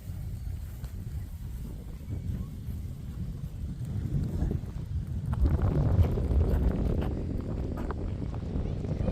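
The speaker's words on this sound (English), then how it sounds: "Windy today." Gusty wind buffeting the microphone on a hill at Terra Nova Park, rumbling low and growing stronger toward the end, with a voice speaking briefly beneath it.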